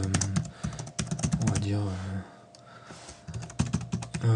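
Fingers tap out quick bursts of keystrokes on a computer keyboard as a news title and text are entered in an admin panel, pausing once midway, while someone speaks French over the typing.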